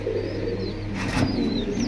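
Pigeons held for sale at a bird market give low, soft coos and a brief wing flutter over a steady background hum.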